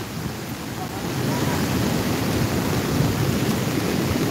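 Rough sea waves from a storm surge at Nato Port in Sagñay, Camarines Sur, a heavy continuous roar of surf mixed with wind buffeting the microphone, swelling louder after the first second.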